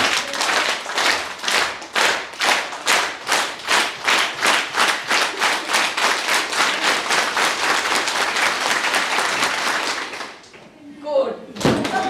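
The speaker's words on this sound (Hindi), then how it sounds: "अब मेरी ताली रुकी तो आपकी भी रुक जानी चाहिए" A large seminar audience claps in steady rhythmic unison, loud and sustained for about ten seconds before stopping abruptly, followed by a brief scattered clap or two.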